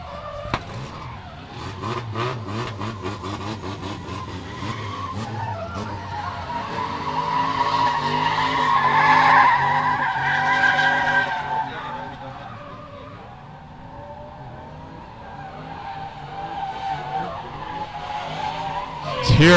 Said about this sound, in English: feathering that throttle, fills up the outside zone there, gets the nose tucked down